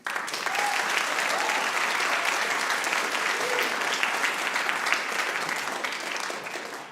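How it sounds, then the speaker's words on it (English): Sustained applause from a crowd at an animation film festival, dense and even clapping close by for about seven seconds before tapering off at the end. "Round of applause, please."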